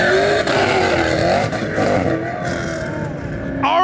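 A car engine revs hard at a car meet while the clutch is being destroyed, a loud sustained roar with shifting pitch that surges again at the end, close and continuous.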